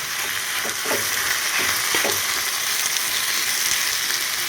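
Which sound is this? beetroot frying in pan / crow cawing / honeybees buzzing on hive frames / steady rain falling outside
beetroot frying in pan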